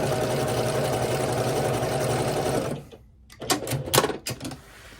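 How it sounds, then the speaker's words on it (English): A home sewing machine chain piecing a row of herringbone quilt blocks runs in a steady, close, continuous whir, then stops near the midpoint and gives way to a few short clicks and handling noises. "I'm just gonna chain piece this piece on."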